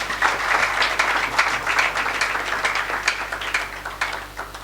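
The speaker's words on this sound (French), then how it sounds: "Je vous prie de bien vouloir applaudir encore une fois." Sustained audience applause at a gathering welcoming the newly elected governor of Mai-Ndombe province, with dense steady clapping filling the whole stretch at moderate loudness.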